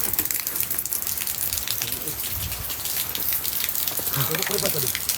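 Rain falls steadily on Gunung Salak, a broad hiss of drops with faint low rumbles and scattered nearby movement beneath it.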